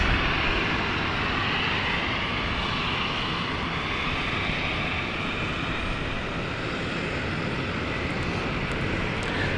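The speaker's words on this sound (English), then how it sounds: "There we go, ignition there for the Dash 8." A Dash 8 turboprop engine spools up at ignition on an airport stand at London City, a steady, loud broadband roar and whine holding evenly throughout with no pauses.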